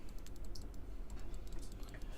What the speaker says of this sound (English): You do have a mechanical keyboard that is very loud.